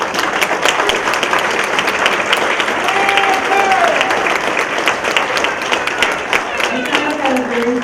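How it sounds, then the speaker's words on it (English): Audience applause breaks out at a Hall of Fame ceremony, steady crowd clapping with individual sharp claps standing out and a couple of brief voices or whistles toward the end. "Anyway, give my girls a big round of applause."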